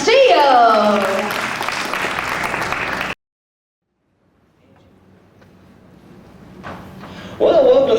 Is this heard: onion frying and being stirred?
no